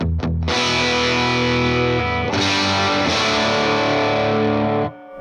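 An electric guitar is played through a Vox AC15C1 amp with no pedals, sounding loud and full, with sustained chords that shift a few times before cutting off abruptly near the end.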